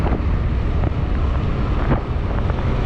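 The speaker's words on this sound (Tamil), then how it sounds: "கொஞ்சம் காற்று ஹெவியாக அடிக்குது" Strong wind buffeting the microphone while riding a Yamaha RayZR 125 scooter on the road, a loud continuous rumbling roar with gusty surges throughout.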